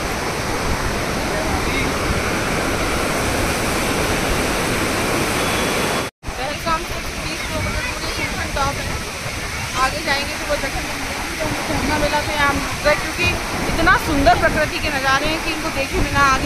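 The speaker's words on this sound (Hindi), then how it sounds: "आप देख सकते हैं, ये है झरना।" A waterfall beside the mountain road to Sinthan Top gives a steady, loud, broadband rush that fills the whole clip, cut by a brief dropout near the middle before the roar resumes.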